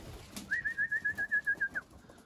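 A bird calls near a spot where feed has been scattered, giving a thin, steady whistled note pulsing in about a dozen quick even beats for just over a second, fairly close and alone over quiet outdoor background.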